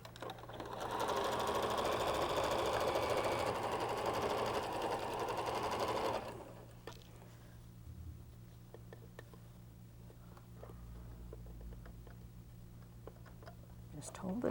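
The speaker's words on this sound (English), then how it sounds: "let's sew this piece, and we'll have another completed windmill" A sewing machine stitches a windmill quilt piece in one steady run of about six seconds, close and even. It then goes quiet apart from light handling clicks and a low background hum.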